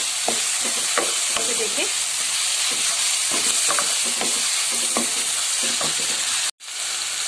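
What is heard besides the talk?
tomatoes frying and being stirred in a pan for kala chana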